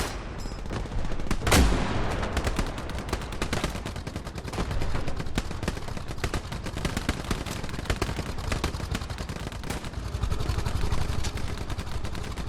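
Dense gunfire rattles through a large-scale World War II battle in Hell Let Loose, with rapid rifle and machine-gun bursts crackling continuously, near and far, and a sharper close blast early on, without speech.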